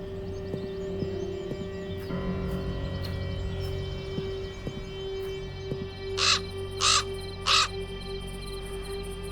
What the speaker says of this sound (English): The raven flew out of a crack in the rock.